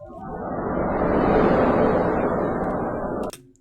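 Wind blowing at the close of a Deltarune scene, processed for noise isolation: a broad, steady rushing hiss that swells gently, holds for about three seconds, then cuts off abruptly.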